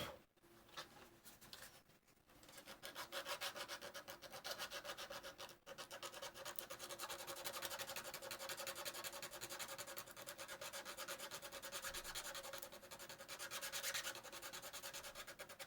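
Sanding a 3D printed part coated with glazing putty, a continuous quiet rubbing scrape with steady back-and-forth strokes, close up and alone after a brief pause at the start.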